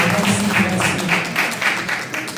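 An audience at a church testimony gathering claps together in a steady, rhythmic beat, loud and close, with a faint voice underneath.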